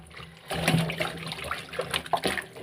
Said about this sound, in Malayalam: ഇനി വെള്ളമൊക്കെ ഒഴിച്ച് നമുക്ക് നല്ല രീതിയിൽ കഴുകിയെടുക്കാവേ